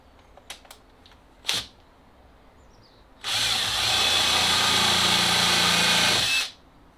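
A few light clicks and a thud, then a power drill with a countersink bit whines loudly and steadily into lumber for about three seconds before stopping abruptly.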